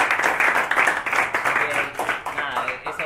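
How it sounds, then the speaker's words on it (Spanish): A lecture audience applauds after a talk, a dense run of many hands clapping at close range that continues steadily without pause. "primero le agradecemos el esfuerzo con un aplauso."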